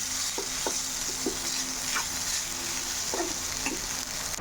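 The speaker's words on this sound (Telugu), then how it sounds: "ఇదంతా కలిసేలాగా కలుపుకోవాలి." Rice mixture stirred in a frying pan for garlic-tempered rice, a soft steady sizzle with a few light scrapes and taps of the spoon against the pan, close and alone.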